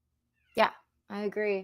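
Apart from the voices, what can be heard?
cat meowing outside a door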